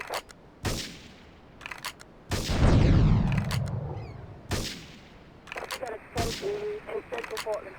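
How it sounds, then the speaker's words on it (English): Several loud gunshots and a booming explosion in Grand Theft Auto III Definitive Edition ring out at irregular intervals, mixed with scattered smaller bangs and a police radio voice speaking at times. "Investigate reports of gunfire and explosions."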